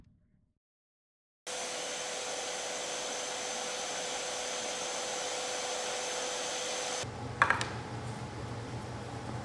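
Shaper handheld router cutting plywood shelf templates, a steady loud motor whir with a broadband cutting hiss that runs continuously for several seconds after it starts, then shifts in tone near the end.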